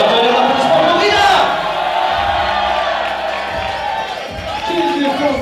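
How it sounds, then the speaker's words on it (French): A crowd at a fight event roars and cheers loudly for the title-defending champion, with whoops and shouts over an announcer's voice that carries on beneath the noise. "un tonnerre d'applaudissements pour Rida"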